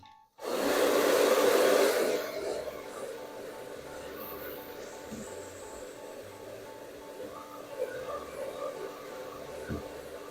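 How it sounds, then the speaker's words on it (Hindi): Hair dryer blowing on a Persian cat's fur, switching on with a loud close whoosh that settles into a steady whirring drone lasting about ten seconds. "इनको ड्रायर की आवाज़ भी बिल्कुल भी पसंद नहीं होती"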